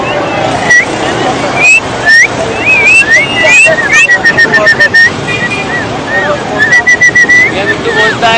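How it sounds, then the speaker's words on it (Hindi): A pet parrot whistles in short rising and sliding chirps, repeated and close, over background chatter and noise at a bird market in Karachi, Pakistan. "ये मिट्टू बोलता है, सीटियाँ मारता है"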